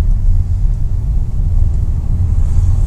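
Busy city road traffic near a park, a heavy, constant low rumble of many cars passing close by, steady throughout with no voices.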